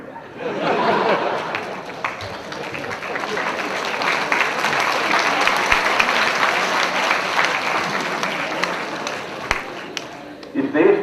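An audience at a university convocation breaks into sustained applause, a steady wash of clapping lasting several seconds with light laughter mixed in.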